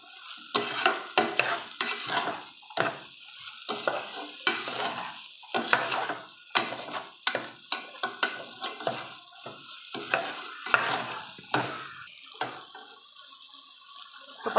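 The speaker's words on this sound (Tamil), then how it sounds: "இதெல்லாம் போட்டு நல்லா இந்த மசாலாலாம் இந்த காய்கறி கூட நல்லா ஒட்டுற அளவுக்கு கிண்டியும்" Vegetables for veg biryani stirred with masala in a pot, rapid repeated scraping and clatter of a spoon against metal in irregular bursts over a soft sizzle, close and fairly loud.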